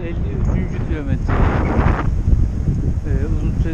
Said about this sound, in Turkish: Uzun süredir rüzgar karşıdan esiyor.